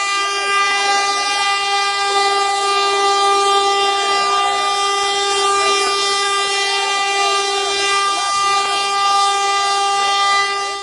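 A train horn blasts loudly and steadily for about eleven seconds as a train passes during a demonstration on the Chilaw–Colombo line in Sri Lanka, its sustained tone dominating over rumbling rail noise.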